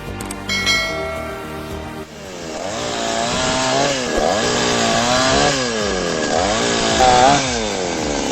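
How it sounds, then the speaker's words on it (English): A chainsaw mounted in an automatic cutting station roars loudly and continuously, its engine pitch rising and dipping repeatedly as it bites into firewood, after a brief metallic ringing at the start. "This setup turns a simple chainsaw into an automatic cutting station"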